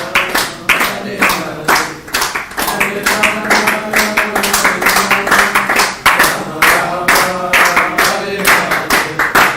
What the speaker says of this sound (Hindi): जो व्यक्ति अर्चा विग्रह के समय ताली बजाता है